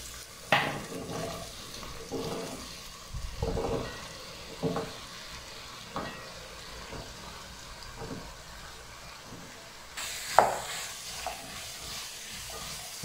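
Turnips are added to a cooking pan and stirred, heard as a low frying sizzle with irregular scraping and clattering stir strokes, plus a louder clack near the end.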